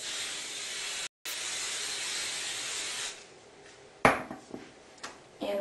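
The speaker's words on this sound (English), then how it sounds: "make sure to lightly spritz it all around and hold it about a foot away from your hair" Hairspray from a Bumpits styling set is lightly spritzed around hair from about a foot away. A steady, close hiss runs for about three seconds with one brief break, followed by faint handling clicks and taps.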